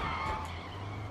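Brief tire skid from a car sliding through a botched drift in Sleeping Dogs, a short harsh screech over a low engine drone.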